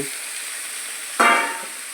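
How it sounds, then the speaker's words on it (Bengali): Tomatoes go into frying meat in a pan, a steady background sizzle with one sudden louder hiss and splash as they drop in, then fading back to a low fry. "মাংসটা হলো, টমেটোটা দিয়ে দিচ্ছি"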